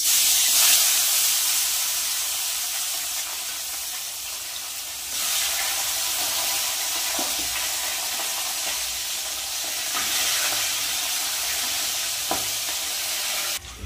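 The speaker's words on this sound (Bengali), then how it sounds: "এবার আমি একে একে মাছগুলো ভেজে নেব" Bhetki fish frying in hot mustard oil, a steady loud hissing sizzle that swells as pieces go in, with occasional light clinks and scrapes, close and continuous with no talking.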